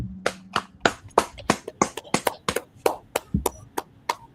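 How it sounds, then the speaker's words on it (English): Sparse, sharp claps from a small group at a livestreamed scripture class, about fifteen distinct hits in a loose, uneven rhythm, close and fairly loud with no talking over them. "Y'all go ahead and clap it up."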